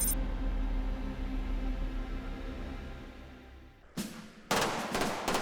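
Machine guns and handguns fire in an action film, a rumbling, low-level scene followed by sudden loud bursts of rapid gunfire near the end.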